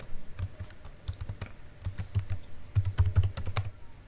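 Quiet, irregular keystrokes tap on a computer keyboard as a collection name is typed into Zotero, coming in short bursts with small pauses between them and no talking.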